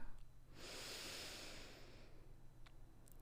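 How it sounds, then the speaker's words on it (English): A deep, full breath drawn in through the nose during a guided self-care breathing exercise: one long, soft, airy inhale lasting about a second and a half, close and alone, fading into quiet. "Again, big, filling breath in."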